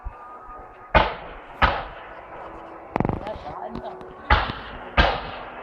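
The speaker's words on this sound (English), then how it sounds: "You can hear the thuds and all, some gunpowder letting them off, isn't there?" Bonfire Night fireworks display at a discovery park in Coalville, Leicestershire, 2011, with five or six distinct booming thuds at irregular intervals, one a rapid crackling burst, heard at a moderate distance over faint crowd noise.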